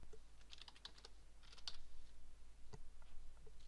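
Keys clatter on a computer keyboard in a quiet room, a quick irregular run of soft, close clicks and taps with no talking.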